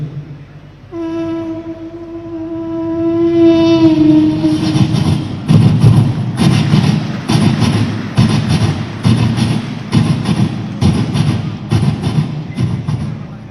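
At a school arts festival mimicry contest, a voice mimics a Vande Bharat train: a long horn-like wail, then a rapid rhythmic chugging of clacks and puffs that speeds along for several seconds.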